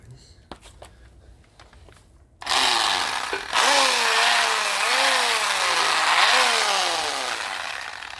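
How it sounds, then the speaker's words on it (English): A Dremel rotary tool is used to clean Mercedes-Benz rims. After a few quiet handling clicks, it starts abruptly with a loud, high motor whine whose pitch dips and rises as it bears into the work, running steadily to the end. "Some sort of Dremel tool."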